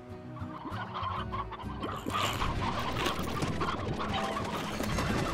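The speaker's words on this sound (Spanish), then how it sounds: "Vamos a llevar más gallinas para nuestro Tabi gordo." Clucking chickens in the game Slime Rancher, many birds clucking continuously and fairly loud together, getting busier and denser partway through, with no talk.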